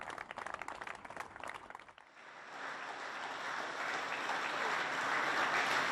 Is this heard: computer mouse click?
no